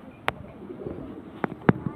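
A few short, sharp bird calls from pigeons at a pigeon tournament in Ashoknagar sound in quick bursts over a quiet, muffled background.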